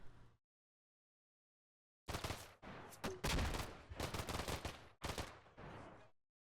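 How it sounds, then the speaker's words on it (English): Automatic rifle fire at short range in the Combat Mission: Black Sea war game, a brief shot, then a pause, then several loud, dense rattling bursts that end abruptly, with no talking. "Short range, lots of automatic rifles."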